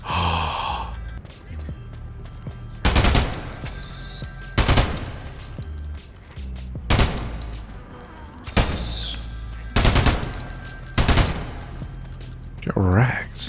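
Corpse Maker gun in a roguelike video game firing heavy, loud shots in a steady cadence of single bursts roughly every one to two seconds over a rumbling game soundscape.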